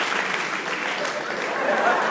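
Hand clapping on a Pakistani comedy talk show, a brief, steady burst of dense, even clapping, like a studio audience applauding, lasting about two seconds.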